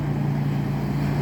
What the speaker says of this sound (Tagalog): Kaya dinig nyo yung tunog ng makina